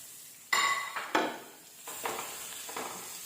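Chopped onion and green chili go into hot oil and are sautéed, with sharp metallic clanks of a utensil against the pan followed by a soft, steady sizzle and lighter knocks as they are stirred.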